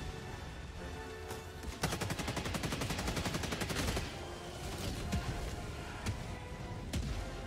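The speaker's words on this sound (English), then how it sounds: "Mortars are doing their job though, keeping them off me a sec." Mortar and gunfire in a combat video game form a dense, loud barrage, with a long rapid burst of shots mid-way and scattered sharper blasts before and after.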